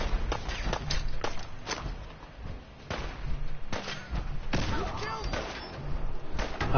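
Gunfire in Fallout 4, rapid sharp shots cracking in uneven bursts amid footsteps and scuffling, with voices talking over the fighting.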